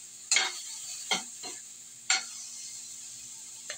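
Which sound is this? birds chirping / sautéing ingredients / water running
sautéing ingredients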